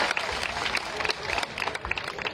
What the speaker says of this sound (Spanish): Un aplauso, Miss Colima.